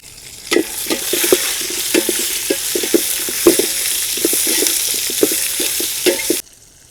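Onions tumble into a large biryani pot over a village fire at a dam-side cooking site, followed by steady sizzling and repeated scraping stirs with clanks of the ladle against the metal, loud and close, with no talk, stopping abruptly near the end.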